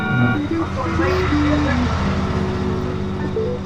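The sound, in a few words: Toyota Supra MK4 car engine sound in GTA SA FiveM video game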